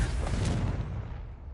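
A Confringo blasting curse explodes in Hogwarts Legacy, a loud, dense booming burst that rumbles and then fades over about a second and a half.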